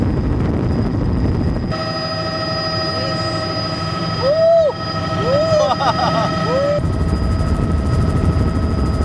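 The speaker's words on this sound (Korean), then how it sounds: "이 투어는 이과수 폭포 주위를 약 20분간 헬리콥터로 도는 겁니다." Steady helicopter rotor and engine drone throughout on a tour flight over Iguazu Falls, fairly loud and close, with a tonal hum and a brief swooping whistle in the middle.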